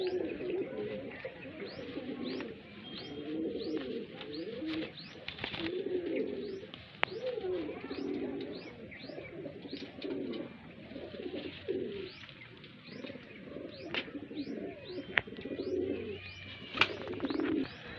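Highflyer pigeons in a loft in Bareilly coo in repeated soft, throaty phrases, a steady chorus close by with occasional chirps and small clicks.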